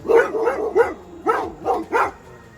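Close, rapid barking from dogs, six sharp barks in two clusters with brief pauses between.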